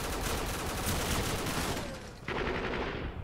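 Sustained automatic gunfire in a video game, dense overlapping bursts of shots close by and continuous, briefly dipping before another burst resumes.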